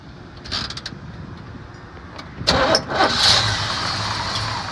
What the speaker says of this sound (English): Great running little 350 engine.